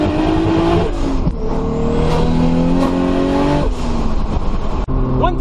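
A Toyota Supra's engine revs hard and loud after a downshift, a sustained close-up roar with rising harmonic pitch sweeps and brief dips between gear pulls, heard from inside the car.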